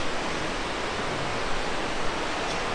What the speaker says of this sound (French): Voilà, cascade comme ça dans la vallée.